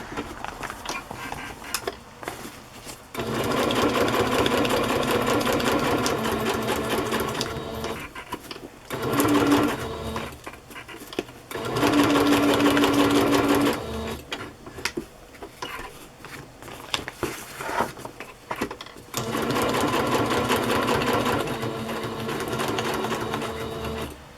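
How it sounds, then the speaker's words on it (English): A sewing machine stitches through metal on a boho cover craft project. It runs in several long, loud, steady bursts separated by short pauses, with no talking. "I have to sew through that metal."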